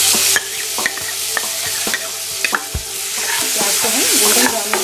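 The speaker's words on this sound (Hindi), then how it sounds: "प्याज को हम गोल्डन ब्राउन होने तक अच्छे से फ्राई कर लेंगे" Onions sizzle and fry in a pan with ground cardamom and cloves for a Lucknow-style soya chaap biryani, a steady close hiss broken by repeated stirring scrapes and clinks, with no talk.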